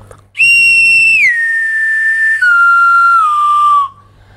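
A bamboo whistle with a sliding stopper gives a loud, pure, close tone that starts high and steps down in pitch, gliding lower in two slides, then cuts off abruptly.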